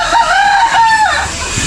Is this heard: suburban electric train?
no